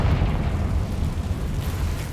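A Confringo spell blast in Hogwarts Legacy goes off as a loud, sustained low rumbling burst, filling the scene with a dense roaring explosion that hangs steadily for a couple of seconds.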